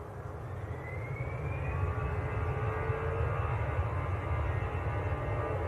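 An easyJet airliner landing at Manchester Airport gives a steady, moderately distant jet roar with a faint whining tone that slowly rises and fades, heard alone without talk.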